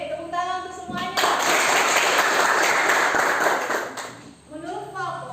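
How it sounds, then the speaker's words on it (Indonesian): Audience at a school teaching-practice session claps together in a loud, dense burst that swells and holds for a few seconds, then fades, with voices talking before and after. "Oke, tepuk tangan untuk semuanya."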